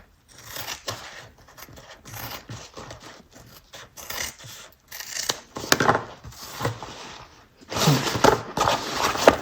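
Scissors snip repeatedly through fabric seam allowances while a handmade bag is being trimmed, giving close, crisp cutting strokes in an uneven rhythm with brief pauses and a louder burst of snipping near the end.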